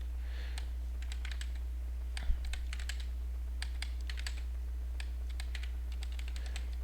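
Bursts of computer keyboard typing with no one talking, clustered clicks coming in quick runs over a steady low hum, close and moderately loud, as character names are entered while setting up a multiboxing session in Vanilla World of Warcraft.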